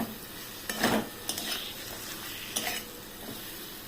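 Pointed gourd stir-fried in a spice masala, soft frying sizzle under repeated scraping and clinking of a spatula against the pan, several distinct stirring strokes, close and fairly quiet, no speech.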